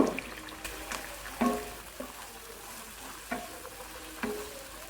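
Chicken pieces frying with onions in a pan for a chicken pasta dish, giving a quiet, steady sizzle broken by several soft stirring clatters and scrapes spread through the stretch.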